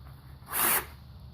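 An electric drill spins wet sandpaper to polish a valve from a 1ZZ engine, a single short high whirring burst lasting about a third of a second, loud against a quiet low hum.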